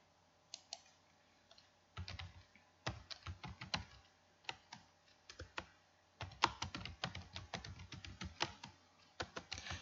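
Quick bursts of typing on a computer keyboard, clustered key clicks in irregular runs with short pauses, close and fairly quiet in an otherwise silent room.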